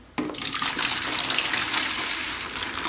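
Water pours into a bucket for mixing grout for tile, a sudden loud gush that starts abruptly and continues as a steady, close rushing stream.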